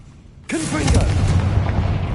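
A Confringo spell blast in the video game Hogwarts Legacy hits with a sudden loud boom and then keeps rumbling heavily, mixed with speech-like voice sounds.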